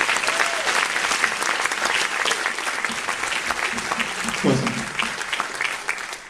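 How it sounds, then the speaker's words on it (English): A lecture-hall audience at a conversation event gives a round of applause, dense continuous clapping that holds steady for several seconds, with a brief voice or murmur in the middle. "So can we have a huge round of applause?"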